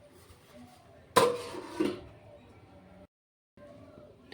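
A metal lid set onto a cooking pot over masala for a Bengali fish curry, one sharp clanging knock followed by a smaller clink, close and brief, with a faint hum and a moment of silence after.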